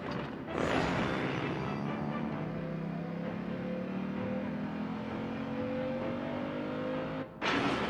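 A car engine revs hard at full throttle, a loud sustained roar with rising harmonic tones across most of the stretch, cutting off abruptly near the end before a brief burst resumes.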